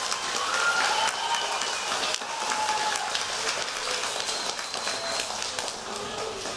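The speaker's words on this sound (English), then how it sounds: "Give your parents a round of applause" Parents applaud as an audience at an elementary school spring concert, a steady, dense patter of many hands sustained at moderate level throughout.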